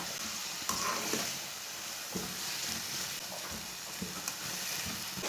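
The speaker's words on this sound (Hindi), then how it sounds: "उबले हुए मटर डाल लेंगे, इसे भी 3 मिनट तक भून लेंगे। इसे भी चम्मच चलाते हुए भूनना।" Boiled green peas fry in masala while a spoon stirs them, a steady close sizzle broken by a few sharp scraping knocks of the spoon against the pan.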